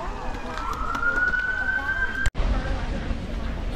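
A distant siren wails with a rising tone in Prague, heard faintly over outdoor background noise and a brief interruption, with some talking.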